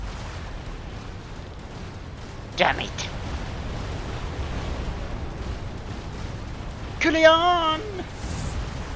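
Cannon fire in the role-playing video game Chained Echoes, heard as a sudden blast over a low, rumbling background, followed later by a shouted voice line.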